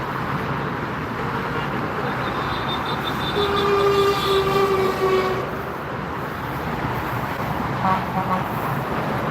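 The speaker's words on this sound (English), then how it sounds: "British Airways is making its final approach towards the Frankfurt Airport" A British Airways Airbus A320 arriving from London on final approach to Frankfurt Airport gives a steady, loud broadband roar with a thin whine rising and fading over several seconds.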